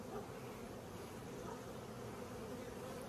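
Honey bees buzz around their hives during a strong nectar flow, a steady, dense, close swarm hum that holds constant throughout.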